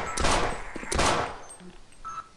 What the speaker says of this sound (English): I hear one of those guns